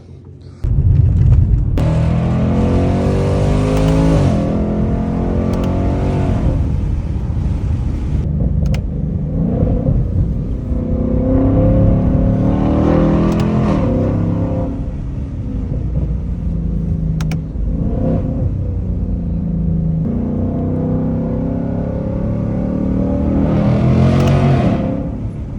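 A car rumbles loudly along the road on its way to a tire shop, the engine rising in pitch as it accelerates through several gear shifts, then dropping back again, all heard up close inside or near the vehicle.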